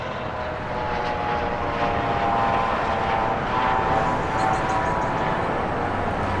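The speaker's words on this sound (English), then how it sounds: "Helicopters over top." A steady, loud helicopter engine drone passes overhead, with a continuous rotor hum and no voices.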